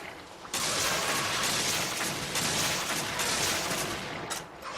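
Bowgun fire in Monster Hunter 3 Ultimate, a dense burst of rapid shots that starts abruptly after a short lead-in and holds as a loud, continuous crackling roar to the end.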